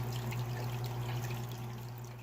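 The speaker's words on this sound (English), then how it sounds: "I just dip it down in the water, fill it about enough just to fit a couple of frozen cubes in" Water trickles and pours steadily as a cup is dipped into a 55-gallon freshwater fish tank and filled, with a constant pump hum underneath and no talking.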